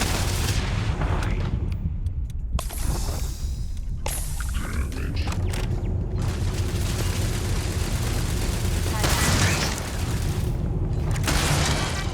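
Shotgun fire in the Starfield video game, several loud booming blasts spaced across a noisy combat scene, close and heavy, with other impacts and effects between shots.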